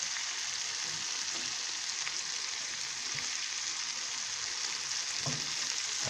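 Turkey pieces, popcorn-style, fry steadily in oil in a tilted pan, giving a continuous even sizzle with a few faint clinks, close and alone.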